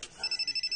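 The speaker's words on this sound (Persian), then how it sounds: "تلفن زنگ میزند" A telephone begins ringing with a rapid, evenly pulsed electronic trill, faint and brief, over soft background sound.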